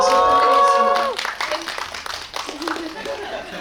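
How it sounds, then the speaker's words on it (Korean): Audience clapping at a Korean film stage greeting, a crowd applauding under a speaking voice at first, then a steady close patter of hands with scattered voices. "네, 박수 부탁드리겠습니다."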